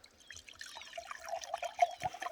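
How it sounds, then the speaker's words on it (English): A cup being filled with water, a soft trickling and dripping pour that grows slightly louder over a couple of seconds, close by with no talking. "Let me pour myself a cup of water."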